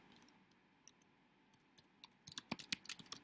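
Keys click on a computer keyboard, faint and close, starting as sparse taps and then speeding into a quick burst of typing.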